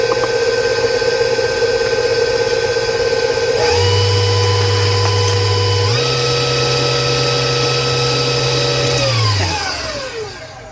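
An electric hand mixer whirs steadily through applesauce cookie batter, a loud continuous motor drone that steps up in speed twice before winding down and stopping near the end, with no talking.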